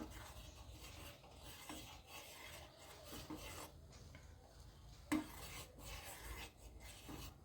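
Milk and sugar being stirred in a pot on the stove for homemade milk tea: steady scraping, rubbing strokes of a spoon against the metal pot, repeated throughout, close and moderately loud, with no talking.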